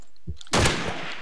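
Gunfire in the video game Call of Duty 2, a loud burst of shots that starts abruptly after a quiet moment and runs as a dense blast for the rest of the clip.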